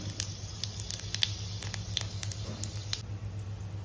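Panch phoron spices crackle and pop in hot oil with scattered sharp spits over a soft sizzle, heard faintly and close up in a home kitchen during the cooking of an elephant apple sabji.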